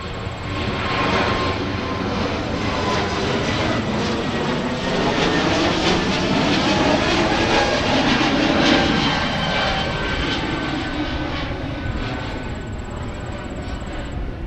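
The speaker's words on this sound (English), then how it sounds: "And here's Delta with the A220 off to Houston." A Delta Airbus A220 jet takes off toward Houston from Minneapolis–Saint Paul airport in a steady, loud, broad engine roar. The roar swells gently and holds for the whole stretch, with a faint voice briefly underneath.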